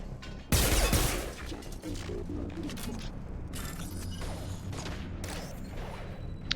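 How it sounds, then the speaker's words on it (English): Dense gunfire in the video game Mass Effect 2, a loud sharp burst of shots followed by continuous rattling fire, clanks and impacts throughout. "I still hear gunfire. Like an alarming amount of gunfire."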